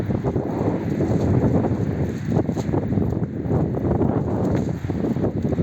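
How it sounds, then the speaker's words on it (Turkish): Steady, rough rumble of strong wind buffeting the microphone, continuous and loud throughout with no voices. "Oo, çok fena rüzgar esiyor arkadaşlar hakikaten."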